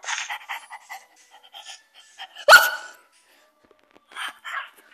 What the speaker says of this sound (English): Come on, baby dog.